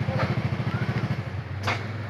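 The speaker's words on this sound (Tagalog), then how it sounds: "So, try natin sa starter. Yun, starting niya." A Honda Mio Soul i125 scooter engine fires up and settles into a steady, pulsing idle close by, the rhythmic putter continuing evenly after a brief clatter.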